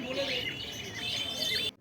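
Busy, overlapping high chirps and squawks from pineapple conure parrots at a crowded bird market, continuous and fairly close, cutting off abruptly at the end.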